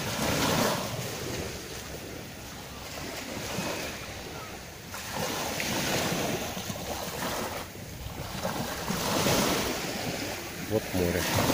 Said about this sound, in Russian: Вот море.